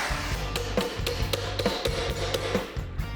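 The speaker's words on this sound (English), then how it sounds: "make a little dolly tool that we can hammer the thing back into shape with" Sharp, ringing metal hammer blows, about a dozen in a steady irregular rhythm, knock a dented window panel on a 1955 Buick back into shape over an improvised dolly tool, close and loud.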